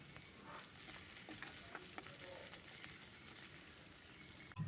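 Ginger-garlic paste fries in a pan, a soft steady sizzle with occasional stirring scrapes, faint and close, ending in a brief louder clatter.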